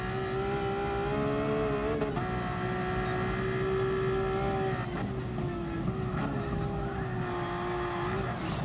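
Simulated car held sideways through a tightening corner of the Nordschleife in GT Sport, a steady loud engine drone with gear changes and tyre squeal running throughout.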